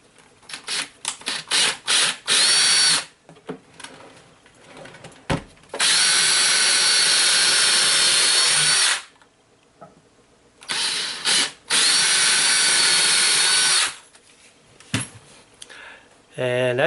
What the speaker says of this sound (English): so we drill those 2 holes for a number 8 screw.